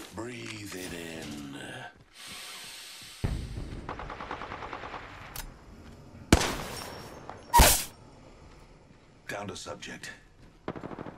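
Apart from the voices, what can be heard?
gunfire shooting at the player in a video game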